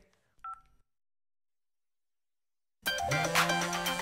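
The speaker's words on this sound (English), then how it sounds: "Now I can give a call to Katya and tell her she left her phone over here." A telephone number being keyed in on a handset in a children's cartoon, a short burst of dialing tones near the start followed by silence and then louder background sound.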